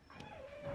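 A puppy whimpers close by in a home, giving thin, high, drawn-out whines that hold steady for most of the moment over a soft indoor background.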